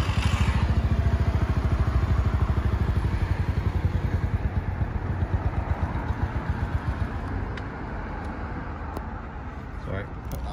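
A new motorcycle engine is already running when the clip begins, its steady, loud, close-up idle giving a fast rhythmic chugging throughout, with faint rattles near the end.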